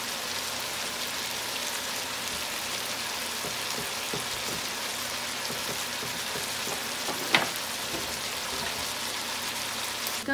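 Chicken being fried (bhuna) in a pan, a continuous crackling sizzle with soft scattered pops and one sharper clink or stir partway through.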